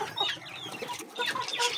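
Chickens clucking in a coop, a quick busy run of close clucks and squawks overlapping for under two seconds.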